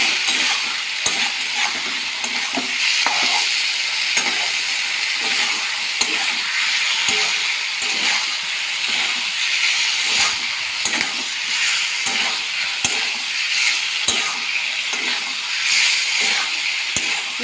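Soybean and potato curry sizzles and fries steadily in a kadai, with faint scraping from stirring, continuous and fairly loud throughout, no voices.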